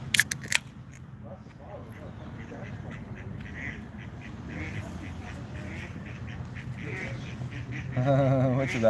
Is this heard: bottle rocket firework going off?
no